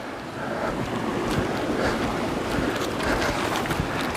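Water flowing into a small rocky pool beside the Appalachian Trail: a steady broadband rushing wash, close and continuous, with some wind noise mixed in.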